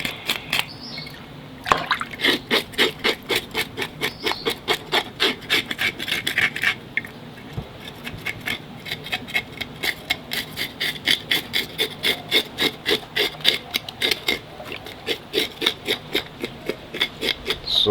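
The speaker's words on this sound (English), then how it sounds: "I'm scraping in the opposite direction." A knife scrapes the scales off a crevalle jack fish in quick, rhythmic rasping strokes, close and crisp, repeating steadily throughout with short gaps between strokes.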